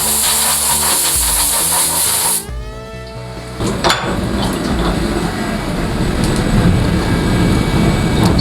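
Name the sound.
CNC machine cutting chamfers with a chamfer tool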